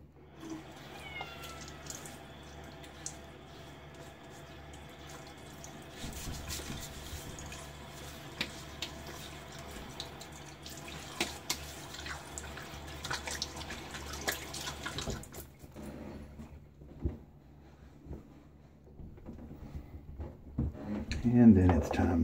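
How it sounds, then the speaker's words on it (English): A bathroom faucet runs while someone rinses their face before shaving, with faint splashing and trickling water at a low level that stops near the end, followed by a few soft handling sounds. "I'm going to rinse my face a second time."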